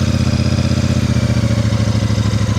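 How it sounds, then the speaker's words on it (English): Royal Enfield Super Meteor 650 motorcycle ridden slowly at walking pace on a gravelly surface, a steady, loud, close low-pitched engine thump with an even pulsing rhythm throughout. "it's really quite easy to ride slowly, this bike"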